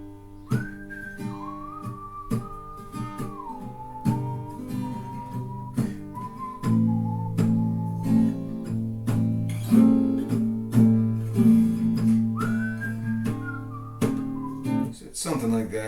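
A whistled melody carries a song over a backing of sustained chords, gliding between notes in long phrases before a short pause and a return.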